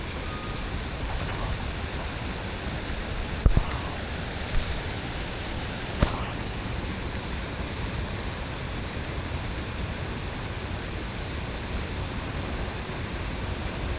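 Water from fountains and waterfalls in an outdoor park, heard as a steady, continuous rushing wash that fills the whole clip at an even level, with a few faint clicks and no talking.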